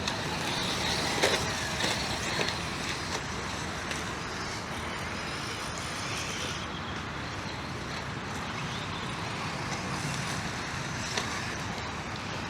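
A Traxxas Rustler 4x4 RC car fitted with buggy wheels drives at around 70-80% throttle, a continuous whining motor and tyre noise running steadily throughout with no speech.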